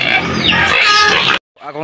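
A pet pig grunts and squeals loudly up close at feeding time, a continuous harsh snorting burst that stops abruptly, followed by a shorter, quieter grunt.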